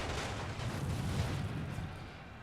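Distant rumbling artillery fire in the WWI strategy game The Great War: Total War, defending a Belgian town, a continuous low booming barrage of muffled blasts rolling together at moderate volume.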